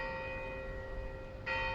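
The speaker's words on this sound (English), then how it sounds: "church bell, thank you" A church bell rings out across the city centre of Skopje, its sustained tones steady and resonant, with a fresh strike near the end swelling the sound louder.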